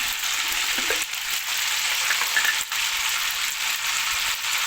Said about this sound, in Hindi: ज़ीरा डाल के 1 मिनट के लिए जो है वो इसको फ्राई करना है